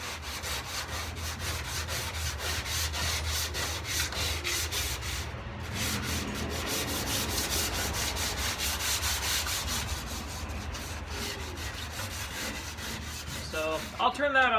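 Steady, continuous sanding on a rusty Toyota truck's tailgate, a rough scraping hiss on metal that runs nearly unbroken and close by, with a brief pause midway.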